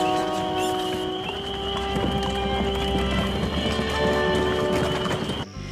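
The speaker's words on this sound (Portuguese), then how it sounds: "os cascos dos cavalos e as rodas da carruagem faziam saltar o cascalho da estrada" Horses' hooves clatter along a gravel road with carriage wheels rolling behind, a steady clip-clop over a dense rumbling bed with music layered on top, continuous and fairly loud throughout.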